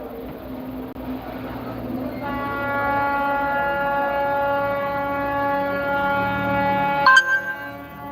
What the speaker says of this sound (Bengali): যে ট্রেনের শব্দটা না খুব কষ্ট দেয়